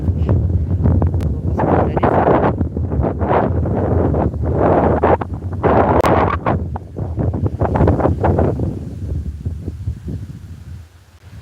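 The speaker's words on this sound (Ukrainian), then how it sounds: "Сьогодні такий вітер." Strong wind buffets the microphone in loud, continuous gusts, with rumbling low roar and brief lulls throughout, at a fishing pond.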